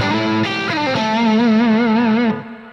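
A distorted electric guitar plays through a Marshall cabinet with a rock tone: a quick few picked notes, then one sustained, wavering note that rings loud and close before cutting off.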